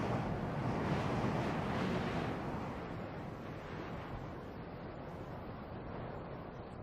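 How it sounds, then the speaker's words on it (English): Wind from the Andes sweeps across the Atacama Desert, a steady broad rushing roar with buffeting gusts, strongest at first and easing slightly, with no voices. "The spell of silence is broken by air that sweeps down from the Andes."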